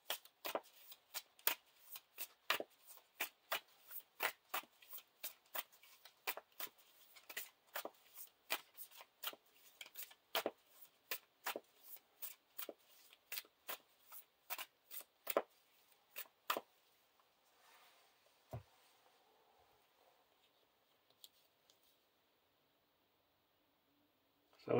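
Playing cards riffled and shuffled for a Lord of the Rings living card game, a long run of quick crisp bursts close by, then a few settling taps and near silence at the end.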